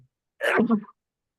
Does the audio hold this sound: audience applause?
no